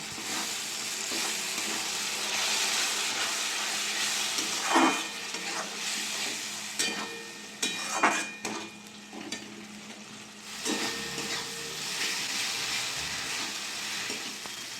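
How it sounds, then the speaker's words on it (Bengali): A spice paste with tomato paste sizzles and bubbles in a pan as it is fried, with a steady hiss broken by repeated scraping stirs and a few utensil knocks against the pan. "টমেটো দিয়ে ভালো করে কষিয়ে নেব।"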